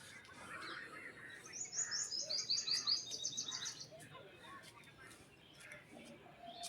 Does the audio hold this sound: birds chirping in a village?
yes